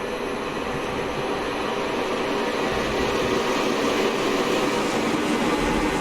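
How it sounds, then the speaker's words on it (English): A steam light engine approaches in the Train Simulator Classic game, heard as a continuous low rumbling rail roar that grows slightly louder and heavier over six seconds. "Sounds like another steam train approaching."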